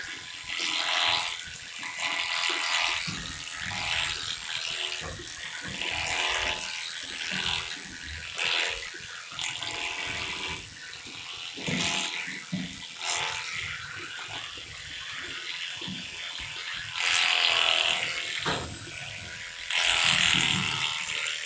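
Goat milking machine running in a milking parlour on a farm, a steady mechanical pumping hum with rhythmic pulsing that carries throughout.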